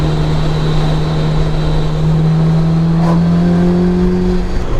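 A supercharged Honda S2000 CR with a Kraftwerks kit drives on a bumpy road, its engine a loud, steady drone whose pitch climbs slowly under constant road and wind roar.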